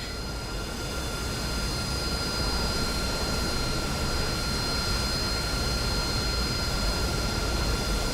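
Steady, loud jet roar from an AV-8B Harrier's engine at takeoff power during a conventional takeoff run in DCS World, continuous broadband rush with a faint high whine held throughout.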